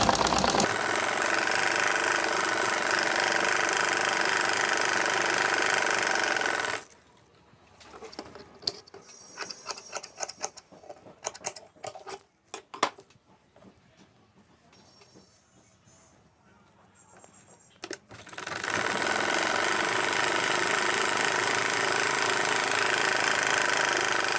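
A sewing machine stitches the sleeve seam of a Punjabi garment, its motor running in a loud, steady whir for several seconds, dropping to near silence with scattered clicks, then whirring steadily again.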